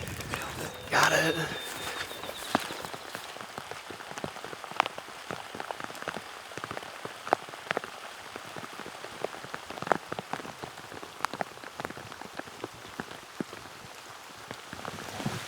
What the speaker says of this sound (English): Rain's picking up, so we decided we don't really want to sit down and make a setup.